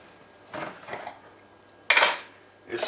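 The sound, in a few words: spoon scooping food into a strainer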